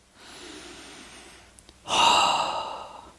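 A deep breath drawn in during a yoga stretch for the shoulders and hamstrings, a quiet inhale followed by a louder, breathy exhale or sigh close to the mic, with no talking.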